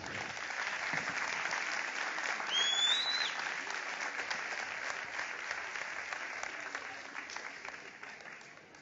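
An audience applauds steadily at the Trophées des Champions 2024 awards ceremony, a dense continuous wash of clapping that holds for about nine seconds, with a brief whistle near the start.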